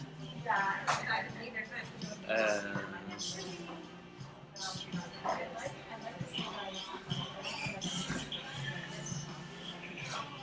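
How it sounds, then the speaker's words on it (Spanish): Wooden chairs scrape and shuffle across a floor amid a busy room, with scattered bumps and murmured voices throughout. "En un segundo van a dejar de mover todas las sillas."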